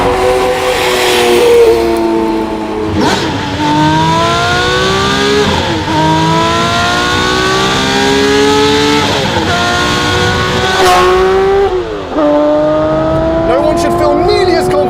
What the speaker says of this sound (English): that is an Inconel titanium exhaust behind me with an X-pipe